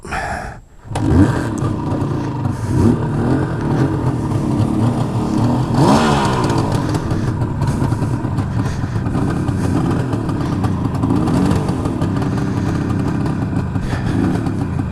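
A Suzuki GT550 motorcycle engine fires up after a brief pause and keeps running loud and close, a steady rough two-stroke burble with a short rise in revs.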